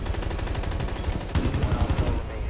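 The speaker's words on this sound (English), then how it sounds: "Gunfire!" Rapid automatic gunfire rattles continuously in Rainbow Six Siege, a dense stream of close, loud shots with a heavy burst partway through and no speech over it.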